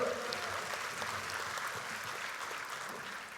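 An audience applauds for the state of Melaka during a UMNO presidential policy speech, with dense sustained clapping filling the hall at an even level and no voices heard.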